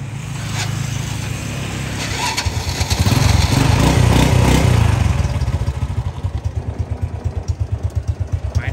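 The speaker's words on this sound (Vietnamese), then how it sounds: "Máy thì nổ rất là im." A used Wenfa motorcycle engine at a Củ Chi dealership runs close up, first a low idle, then a brief louder rev with clattering, before settling into a steady, rapid, even putter.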